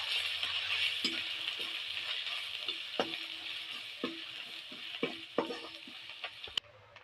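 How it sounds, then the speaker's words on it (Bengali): Ginger garlic paste with ground turmeric, cumin and coriander fries in a pan for ghugni while a spoon stirs it. A steady hiss of sizzling runs under irregular scrapes and light clinks of metal, close up with no talking. "আদা রসুন মশাটা হলুদের গুঁড়ো জিরে গুঁড়ো ধনে গুঁড়ো নেড়ে চেড়ে ভেজে নেবো"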